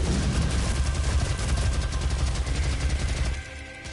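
Rapid, dense gunfire in the DOOM shooter, a loud unbroken stream of shots that drops in level just before the end, with no talking.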